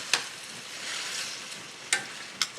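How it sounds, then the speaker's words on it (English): Tomato and pancetta sauce bubbles and sizzles gently in a pan, a soft steady crackle broken by a few sharp clicks of a utensil against the pan. "We let this simmer away"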